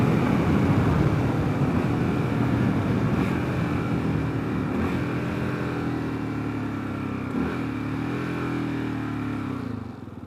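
A 2022 Kawasaki KLR650 Adventure's engine drones steadily at highway speed near 5,000 RPM, a close, continuous hum mixed with wind rush and a slight pitch shift late on.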